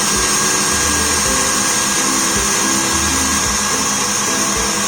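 Electric hand mixer whisking macaron mixture, a steady loud whirring motor drone at medium speed with faint rhythmic bumps as the beaters turn in the bowl, with no talking.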